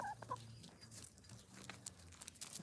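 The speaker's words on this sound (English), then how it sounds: "The chickens are out." Free-ranging backyard chickens cluck softly nearby, a few short clucks at the start followed by quiet scratching and faint outdoor noise.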